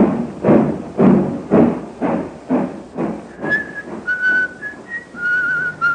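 A man whistles a merry tune on a railway platform, a close, clear melody, with heavy rhythmic thuds like footsteps or a departing train under the first half.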